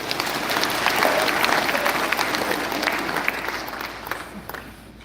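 An audience at a Marian congress in a church shrine in Nairobi breaks into sustained applause, a dense crowd clapping that swells early and slowly tapers off toward the end.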